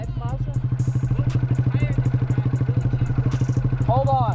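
Honda Grom motorcycle engine idling and revving in first gear with a steady, rapid exhaust pulse, close and loud, while a rider talks over it.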